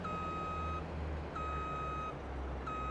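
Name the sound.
GPS activation beeps on harvester, Farming Simulator 22 video game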